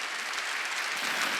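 A church congregation at a Korean Wednesday worship service claps in a dense, steady burst of applause that fills the whole short moment.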